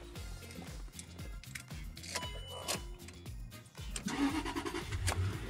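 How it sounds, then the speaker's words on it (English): A car engine cranks with rhythmic starter pulses for several seconds, then catches and settles into a steady idle, close and fairly quiet. "the important thing is you go and start the car"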